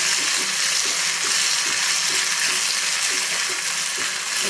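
Potato sautéing in ghee in a pan for a fasting varai dish: a steady, fairly soft hiss and sizzle throughout, with faint regular scraping of stirring underneath, no voices.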